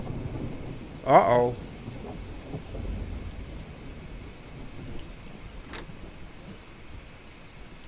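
Thunderstorm in the horror video game Mold: a single loud thunder crack, then steady rain hiss and faint rumble continue through the night scene, with a brief spoken reaction.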